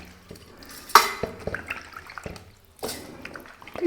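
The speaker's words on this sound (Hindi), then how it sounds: "और अब हम अपने राइस को डाल देते हैं।" Soaked basmati rice tipped into a pot for rajma chawal, giving two sharp wet clatters, each followed by a few soft drips and scrapes, close by and fairly quiet, with no talking.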